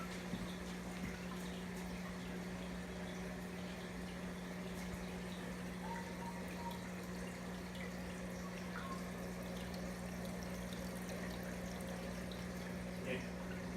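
Water runs into a home aquarium during a water change as a faint, steady rush over a constant low hum, unbroken from start to finish.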